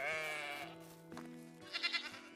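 Goats in a medieval farming game give a long, drawn-out bleat, then a second call midway, ending with a quick burst of higher chatter-like bleats, heard alone without talk.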